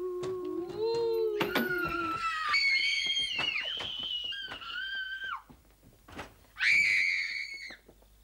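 Several voices screaming and shrieking in high-pitched bursts while running out of a supposedly haunted house, loud and overlapping, with short pauses between the cries and a final sustained shriek near the end.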